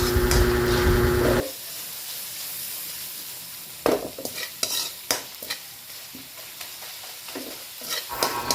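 Ground meat drops into hot oil in a pan with a loud burst of sizzling that quickly settles into a quieter fry, followed by scattered clinks and scrapes of stirring.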